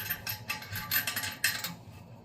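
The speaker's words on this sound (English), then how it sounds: "And then we'll tighten this wing nut on there." A plastic wing nut is tightened onto the mounting bolt of a Glacier Bay dual flush toilet seat, making a steady run of close, soft ratcheting clicks and scraping turns.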